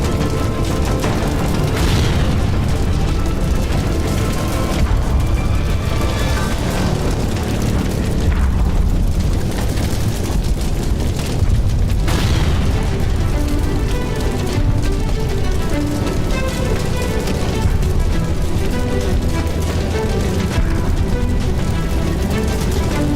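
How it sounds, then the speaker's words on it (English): Explosion in the rear of a WWII aircraft, rendered as loud, continuous low rumbling booms with repeated heavy bursts and thick dramatic sound, sustained at high level without letup throughout. "A deafening explosion ripped through the rear of the aircraft, sending shrapnel flying into the cabin."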